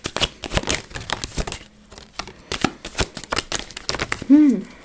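A deck of cards being shuffled by hand in rapid bursts of riffling clicks and flutters, with a short pause midway and a brief voice at the end.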